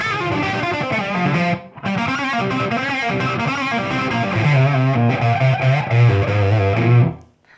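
A Framus Idolmaker electric guitar with a clean tone and no distortion plays a sustained, ringing riff of chords and notes for several seconds, loud and full, then cuts off abruptly.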